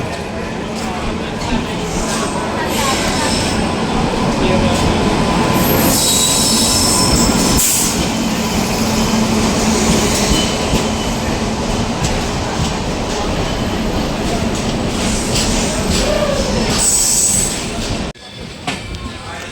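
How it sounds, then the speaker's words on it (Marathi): A passenger train pulls slowly into a station platform on a Goa to Vasai journey, loud and close, with wheel squeal and steady rail rumble filling the scene and people talking faintly nearby before it cuts off near the end. "फायनली ट्रेन आली आहे."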